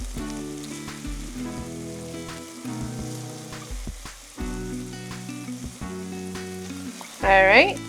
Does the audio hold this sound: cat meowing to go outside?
no